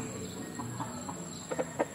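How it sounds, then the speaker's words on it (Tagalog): A backyard rooster of Kelso crossed with Roundhead breeding makes a few soft clucks and short calls close by, with quiet background noise. "ang lalaking manok"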